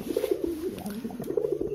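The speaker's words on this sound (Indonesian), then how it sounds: "ini merpatinya udah berancah banget atau siap jodoh teman-teman" Pigeons coo in low, throaty repeated calls, several rolling phrases close by with a steady rhythm and faint background noise.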